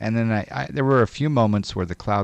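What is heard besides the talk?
No everyday noises stand out.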